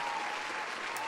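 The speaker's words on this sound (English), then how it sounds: "We're gonna clap it up for that." Short burst of steady applause from a small audience, dense even clapping throughout at moderate level with no talk over it.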